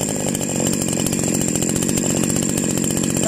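Patelo PT 998 chainsaw running loud and close, a steady high buzzing two-stroke drone that holds constant from start to end with no speech.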